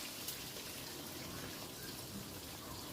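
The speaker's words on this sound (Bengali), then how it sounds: "মটন ফ্যাটটা আর কি, সেটা দিয়ে দিলাম। দিয়ে এটাকে একটু ফ্রাই করে নেব।" Mutton fat frying in a pan gives a steady, dense crackling sizzle that holds evenly throughout, with no talking.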